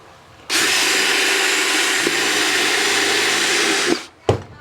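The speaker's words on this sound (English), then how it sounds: "we drill a hole" A power drill bores a hole through a plastic bucket, a loud continuous whir running steadily for several seconds, then cutting off with a brief spin-down and a short extra burst.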